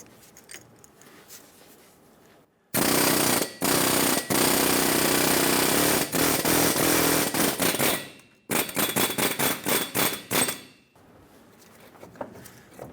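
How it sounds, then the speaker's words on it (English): Air chisel hammering around a rusted front wheel bearing on a 2003–2009 Dodge Ram 2500, loud rapid-fire bursts close up, one long run then a choppier stuttering stretch with brief pauses. "I'm going to use an air chisel and go around the base of this wheel bearing."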